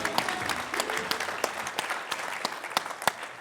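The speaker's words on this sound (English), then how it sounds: "Let's give her a warm round of applause as she speaks with us today." An audience applauding at a city's State of the City address, steady clapping from a moderate crowd with a few sharper nearby claps standing out.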